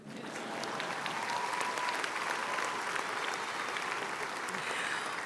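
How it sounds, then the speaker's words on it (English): A large crowd at a university commencement ceremony applauds steadily, a dense, sustained wash of clapping that swells quickly and holds at an even level throughout. "You can clap for her."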